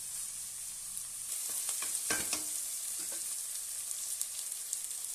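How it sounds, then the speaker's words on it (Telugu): Ginger and garlic fry in a pan for a country chicken curry, a soft continuous sizzle broken by a few quick stirring scrapes in the middle. "అల్లం వెల్లుల్లి వేయండి ఇవి కూడా ఎర్రగా బ్రౌన్ కలర్ వచ్చే వరకు వేయించుకోవాలి"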